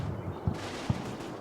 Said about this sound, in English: that sound at the end is the sound of heavy artillery